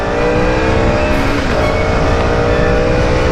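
A KTM Duke 250 motorcycle accelerating hard on an open coastal road, its engine a loud, close, continuous roar with a steady high rev and strong wind rush throughout.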